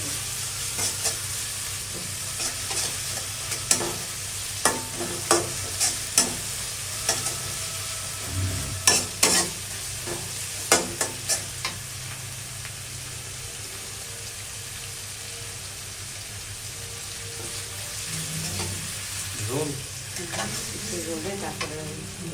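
Onions and vegetables fry in hot oil with a continuous, fairly loud sizzle. Repeated scrapes and knocks of stirring rise above it, and a few thumps and splashes are heard near the end.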